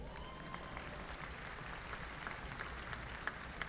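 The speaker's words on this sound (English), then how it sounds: "give him a round of applause" A commencement crowd applauds an award winner, a faint, distant, even wash of clapping across a large hall.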